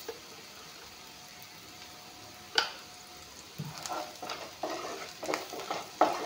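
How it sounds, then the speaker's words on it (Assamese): Onions and chili with chili powder fry in a pan, a quiet steady sizzle broken by several louder scrapes and clacks of a spatula stirring toward the end. "এতিয়া এইখিনি অলপমান ভাজি লওঁ।"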